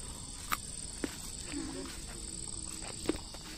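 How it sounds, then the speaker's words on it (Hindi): A steady high-pitched cricket chirp drones in the background, with a few soft taps and faint murmuring voices. "ये झिंगूर की आवाज है क्या?"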